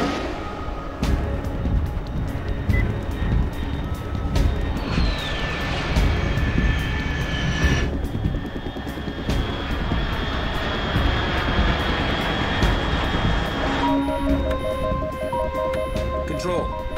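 Aircraft engine in the stealth game Metal Gear Solid 3, a sustained loud roar with a rising whine sweeping past overhead, mixed with game sound effects and tones.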